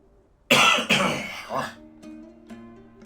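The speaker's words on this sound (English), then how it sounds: "Still got the horrid COVID cough, though." A lingering COVID cough comes as one loud, close, harsh burst followed by a second fainter hack, then fades into quiet background sounds.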